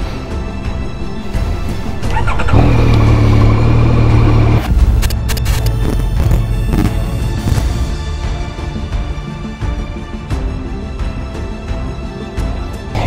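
A new Yamaha Tracer 9 GT+ motorcycle starting for the first time: the engine cranks and catches into a loud, rough idle, with revs rising and settling, very close and continuous, mixed with handling clatter.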